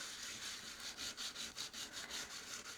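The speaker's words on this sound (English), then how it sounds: "I'm going to get my nail file. And we're going to come in here. And I'm going to rub over it" A nail file rubs over paper with medium pressure while a junk journal is being made from scrap materials, giving a steady series of rasping back-and-forth strokes, close and fairly loud, with no talking.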